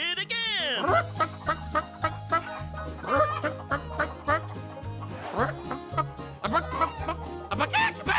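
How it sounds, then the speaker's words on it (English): A big red hen clucks in a bouncy nursery-rhyme song, repeated bursts of clucks over a rhythmic, hoedown-style backing with a voice mixed in. "A big red hen."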